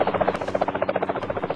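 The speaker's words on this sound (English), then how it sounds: "Take the chopper back to the depot." Rapid, pulsing rotor chop of a helicopter in the Minecraft video game, a steady buzzing beat at moderate volume with no talk over it.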